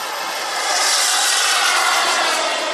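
RC model L-39 Albatros turbine jet by C&C Models flying in to land at a model jet flight demonstration, giving a loud, steady, broad turbine roar that swells slightly as it passes, with no talk over it.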